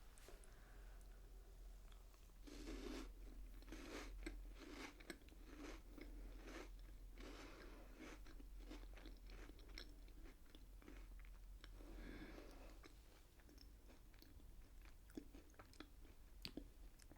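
Biscuits being bitten and chewed in a quiet close-mic setting: soft crunchy bites followed by repeated faint chewing and crackling, with no talking.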